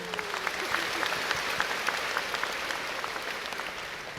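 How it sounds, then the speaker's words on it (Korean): An audience at a 2019 Korean Gaecheon cultural festival ceremony claps steadily throughout, a dense patter of many hands at moderate distance with no cheering. "여러분 큰 박수 부탁드립니다."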